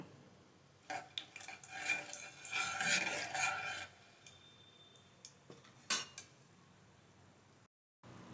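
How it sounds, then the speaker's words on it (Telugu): Mustard seeds and dry red chillies frying in a pan for mango pickle, giving a cluster of faint crackling, ticking pops and scraping stirring noises that swell briefly, then thin out to a few scattered taps. "ఆవాలు అలాగే ఎండుమిర్చి వేసుకున్నాను ఇవి కొంచెం ఫ్రై కానిద్దాము"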